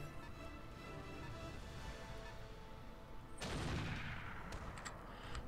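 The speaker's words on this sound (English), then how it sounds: "Probably another heavy rifle." Heavy rifle gunfire in the Roguepoint video game: a sudden loud burst erupts midway through a steady background din, followed by a lingering crackling tail.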